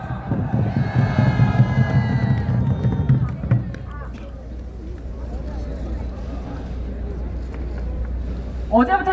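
At an outdoor political rally in Korea, a large crowd cheers and claps loudly while an announcer's amplified voice carries over them, then the applause thins to a steadier murmur of crowd noise.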